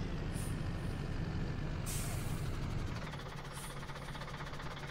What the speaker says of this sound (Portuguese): Esse freio tá me matando